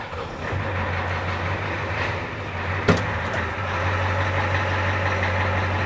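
A diesel truck engine is started in a workshop and settles into a steady, loud idle with a low droning hum, a brief sharp knock partway through, and no talking.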